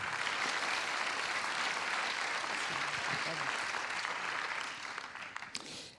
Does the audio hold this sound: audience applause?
yes